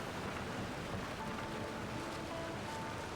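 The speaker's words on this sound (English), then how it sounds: "Man, listen to those water sounds." Water in the open-world game Genshin Impact rushes in a steady, even wash, like surf or flowing water, constant and uninterrupted with no talking.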